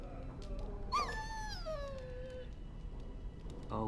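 Dog in the Dragon Age video game letting out a single drawn-out whimper that slides downward, clear and fairly close over a quiet background.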